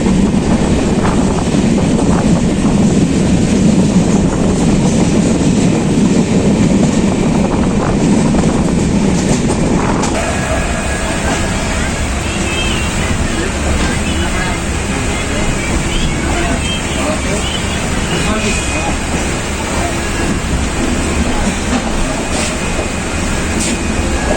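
The Purnagiri Jan Shatabdi Express runs on a fully electrified line between Bareilly and Moradabad, giving a loud, continuous rumble and rattle of wagons. The tone shifts sharply about ten seconds in, then the steady rolling noise carries on.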